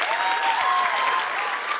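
An audience at a school music show gives a performer named Stebbi a warm round of applause, a dense, even wash of clapping that holds steady for the whole stretch.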